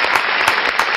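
Clapping from people gathered at a music listening party, a brief dense burst of hands applauding steadily for about a second with no talk over it.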